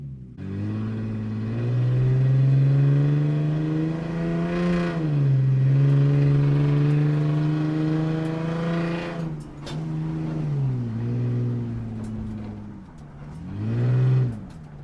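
A car drives toward the Normandy coast, its engine droning steadily from inside the cabin with rising and falling pitch as it accelerates and shifts gears, loud and continuous.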